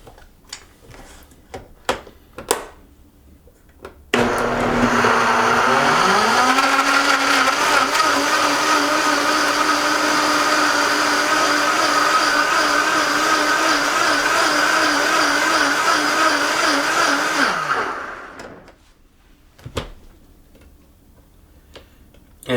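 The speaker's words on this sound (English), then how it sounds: "Now we blend." A countertop blender whirs loudly as it blends cherries, spinach, ripe bananas, pear and a pint of water into a smoothie. The motor spins up, churns steadily for about fourteen seconds, then winds down, with faint clicks before and after.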